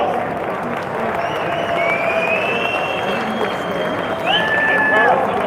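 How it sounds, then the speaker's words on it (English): An audience applauds competitors lined up at an awards ceremony for an MRE challenge, sustained dense clapping from a crowd with a few whistles and cheers mixed in. "let's give these competitors a huge round of applause"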